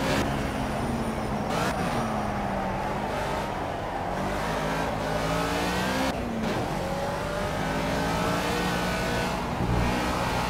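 A race car engine in Project CARS drones loudly and continuously, its pitch climbing and dropping as the car revs through gears, with no voices over it.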